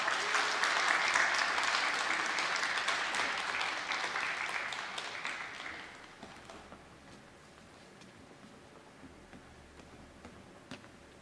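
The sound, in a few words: congregation applauding to welcome missionary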